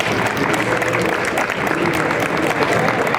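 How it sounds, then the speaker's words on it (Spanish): A live audience at a physiotherapy talk claps loudly to welcome a speaker, a dense, steady burst of crowd applause lasting the whole short moment. "Un fuerte aplauso para recibirlo,"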